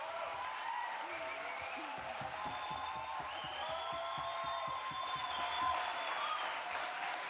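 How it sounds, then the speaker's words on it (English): Warm applause at an Indigenous Liberation Day festival session, a fairly faint, steady patter of clapping from an audience heard at some distance, with a few voices over it. "A warm applause indeed."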